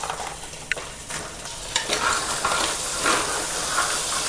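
Crab gravy ingredients fry in a pan with an even sizzle and hiss, punctuated by a few distinct clatters and scrapes of stirring. Moderately loud and close, with no speech.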